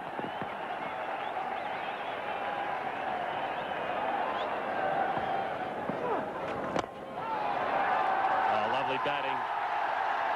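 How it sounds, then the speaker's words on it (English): A cricket crowd at Indore roars for Sachin Tendulkar's 10,000th run against Australia in 2001, a broad, sustained wash of cheering and applause that swells steadily, with a commentator talking over it. "And the crowd are up as one to celebrate their"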